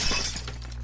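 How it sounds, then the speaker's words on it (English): Glass shatters in the video game Happy Wheels, one short, bright crash with scattering fragments that fades quickly. "Oh, now we have to break glass."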